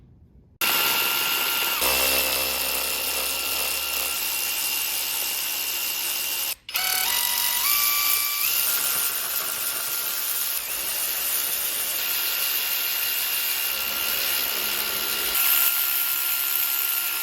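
A ratchet clicks steadily while loosening intake manifold nuts on a 1995 Honda GSR engine being swapped into a 1991 CRX Si, with a short break partway through and metallic scraping between strokes, no voices.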